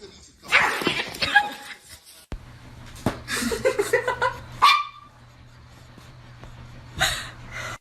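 A pet dog barks in a few sharp bursts and whimpers between them, close and loud, with short quiet gaps and a low steady hum underneath.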